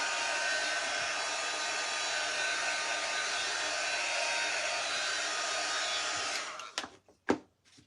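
A hair dryer blows steadily at close range over a craft project made from Dollar Tree supplies, a constant loud rush that cuts off abruptly near the end, followed by a few brief knocks and handling sounds.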